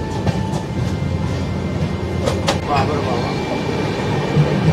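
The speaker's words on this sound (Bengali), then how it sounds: "এখন এই ট্রেন ছাড়লো বাস্তা স্টেশন থেকে" Dhauli Express train running just after leaving a station, a close steady rumble with rhythmic rail clatter and a few sharp knocks in the middle.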